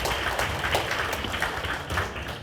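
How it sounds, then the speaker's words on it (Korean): Applause from an audience at a Korean book concert and author meet-up, a sustained dense wash of clapping with a few sharper claps standing out. "유원상 교수님께 다시 한번 큰 박수 부탁드리겠습니다"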